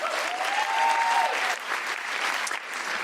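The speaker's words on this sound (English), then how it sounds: "feel free to applaud" Audience applause fills the room steadily and loudly for about three seconds, dense clapping with a brief rising tone mixed in early, and no talking over it.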